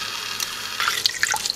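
Water pours into an Instant Pot while red pork tamale filling is prepared, a steady splashing trickle with bright droplet sounds that grows busier toward the end.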